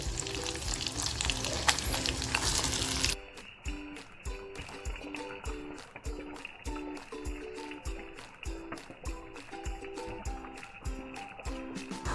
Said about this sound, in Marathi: आता जे मटन मी मॅरिनेट केलंय ते मटन टाकते